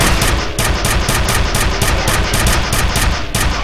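Rapid automatic gunfire from a weapon in the shooter video game F.E.A.R. rattles loud and close in a continuous burst of evenly spaced shots lasting several seconds.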